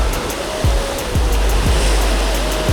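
Strong sea swell surging and crashing against the shore at a rocky sea fishing spot, a loud continuous wash of surf with heavier breaking pulses recurring every second or so.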